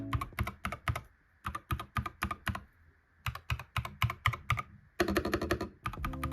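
Freebie mechanical keyboard switches are typed on in quick bursts, a close, crisp clatter of keystrokes in rapid clusters separated by short pauses, with no talking.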